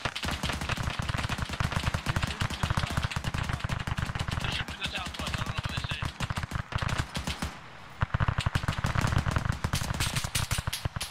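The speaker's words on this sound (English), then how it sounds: "Shots. West." Rapid automatic gunfire from a military video game, dense bursts of shots firing almost continuously, loud and close, with a brief lull before the volleys resume; a voice is faintly present beneath.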